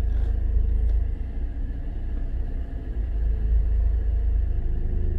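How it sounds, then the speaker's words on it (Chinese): Rush-hour road traffic in Nicheng town, Shanghai: a steady, loud low rumble of passing cars with continuous engine and tyre noise, no talk. "现在也是下班的一个时间， 车辆蛮多的"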